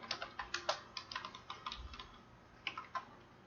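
Quick, light keystrokes on a computer keyboard tap out an irregular run of clicks, faint and close by, with no voices.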